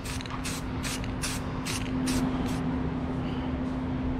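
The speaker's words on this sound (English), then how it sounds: "put some primer on it and some good spray paint" An aerosol can sprays primer onto a homemade intake for a Mikuni 22mm carburetor, seven short hissing bursts in a quick, even rhythm, close and fairly loud over a steady background hum.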